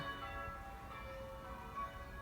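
Faint church bell tones ring out from afar in the old stone town of Middleham, England, sustained and softly overlapping against a quiet outdoor background.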